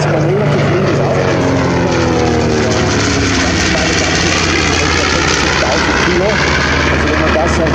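A North American B-25 Mitchell bomber flies a low solo pass, its piston engines giving a loud, steady propeller drone that fills the whole stretch, with a commentator talking over it.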